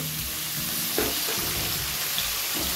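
Vegetables and green peas fry in a wok for a cabbage curry, a steady close sizzle running throughout with a few soft stirring knocks, no one talking.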